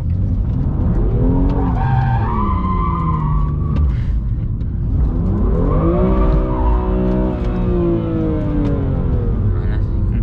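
A BMW M2 Competition drifting on a road bend, engine roaring and revving loudly while the tyres squeal in long rising and falling skids, heard close from inside the car.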